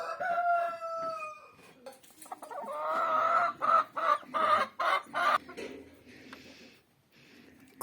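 Chickens cluck and squawk close by while eating apple scraps, in a run of short, choppy bursts, with a drawn-out call near the start and a brief lull toward the end.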